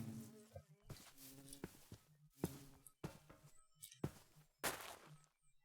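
Bees buzzing in Minecraft, a series of short whirring buzzes at close range, several separate bursts with gaps of silence and a few soft thunks between them.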